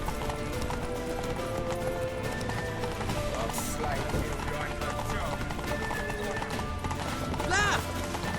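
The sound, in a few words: horse galloping hooves in The Witcher 3 video game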